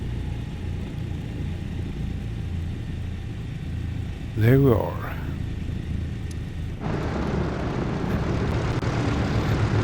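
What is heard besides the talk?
Douglas DC-3 aircraft engine running at lowered revs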